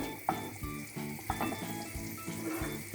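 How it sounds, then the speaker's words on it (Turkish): Butter sizzles steadily in a hot pan on a small stovetop burner, with a few brief clinks and scrapes of stirring breaking through the frying hiss, close and moderately loud with no voices. "ocağın küçük gözünde kavuruyorum tereyağlarımı"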